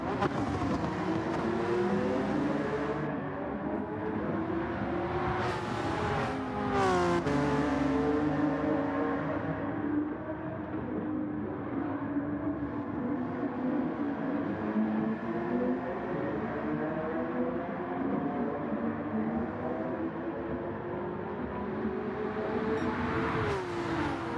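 Race car engine in Gran Turismo 7 during a Manufacturers Cup race, a steady loud drone with rising and shifting harmonic pitch as it accelerates, brief gear-change dips, continuous throughout without talk.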